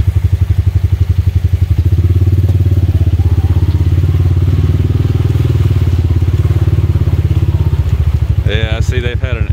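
A 2021 Honda Rancher ATV engine thrumming close and loud as it works up a creek ledge through churned-up water, a steady pulsing chug, with a voice breaking in near the end.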